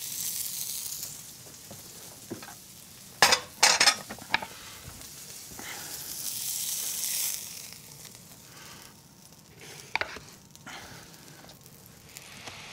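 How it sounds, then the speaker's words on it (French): A veal pan deglazed with water and a splash of white wine, a sharp burst of hissing and crackling sizzle followed by steady frying and scraping stirs, with occasional louder sputters, close and alone. "après la cuisson, je déglace pour récupérer les sucres avec de l'eau et un peu de vin blanc"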